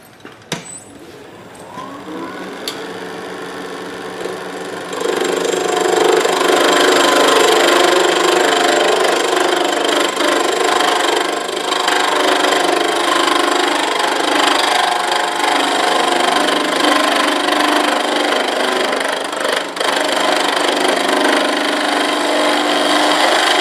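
A wood lathe turns a tool handle while a gouge cuts with just its toe, a steady close whirring with cutting noise that swells after a quieter start and holds continuously.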